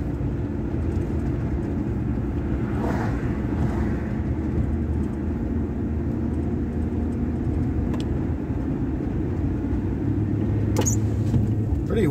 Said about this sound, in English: windy today. Trucks blowing all over the road.